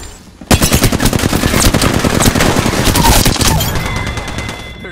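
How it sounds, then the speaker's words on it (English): Loud, sustained automatic gunfire in Apex Legends, a fast steady stream of close shots kicking in abruptly after half a second and running to the end with a brief break near the close. "Shot fired."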